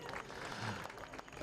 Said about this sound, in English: Let's give her a cheer.